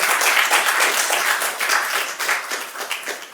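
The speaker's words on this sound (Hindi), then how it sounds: "एक बार तालियां हो जाएं आप सबके लिए" Students in a coaching-institute classroom break into a steady round of applause, dense and even clapping up close, fading slightly toward the end with no talking.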